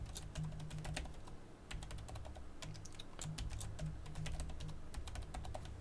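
Someone types a long password on a computer keyboard, producing quick irregular key clicks in close, faint bursts with short gaps over a low background hum.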